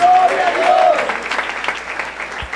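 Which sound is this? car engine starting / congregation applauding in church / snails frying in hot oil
congregation applauding in church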